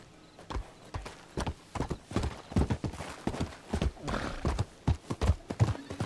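Horse hooves clip-clop on the ground in a Red Dead Redemption 2 role-play session near Rhodes, irregular and moderately close, with a horse's whinny and faint voices in the background.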